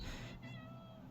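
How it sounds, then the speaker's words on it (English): A cat meows close by at a workbench where a Vespa ET2 scooter engine is being refitted, one drawn-out meow over a noisy background hum, with no talking. "Cat's there."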